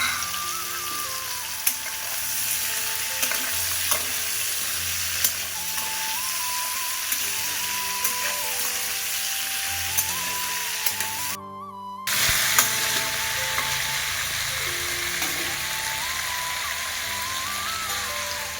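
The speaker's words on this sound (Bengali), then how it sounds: "এর মধ্যে দিয়ে দেবো পটল, কেটে রাখা বেগুন, একই সাথে ভেজে নেব।" Pointed gourd and cut eggplant fry together in a pan, giving a steady, close broadband sizzle with occasional stirring clicks and a brief dropout midway, no talking.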